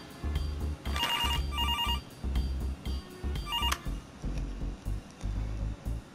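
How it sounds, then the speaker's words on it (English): A telephone bell rings in repeated bursts, loud and close, over a steady low background hum or music, with no speech. "a phone call."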